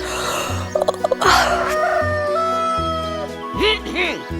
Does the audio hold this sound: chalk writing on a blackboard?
no